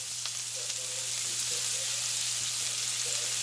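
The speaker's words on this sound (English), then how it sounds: "We're going to hit it with some butter." A steak frying in a pan with butter, a steady close sizzle and hiss with faint pops and a low hum beneath, no talk.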